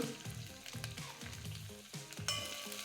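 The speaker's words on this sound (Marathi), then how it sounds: "व्यवस्थित ह्याला परतून घ्यायचं आहे त्याच्यामध्येच आपल्याला कडीपत्ता घालायचा आहे मुठभर हिंग" Curry leaves and asafoetida sautéing in a pan, a steady crackling sizzle of hot oil under repeated scraping stir strokes, close and quiet with no talking.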